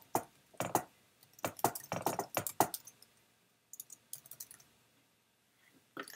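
Typing on a computer keyboard while composing a post: bursts of quick, crisp key clicks in irregular clusters, close and fairly quiet, with short pauses between bursts and no talking.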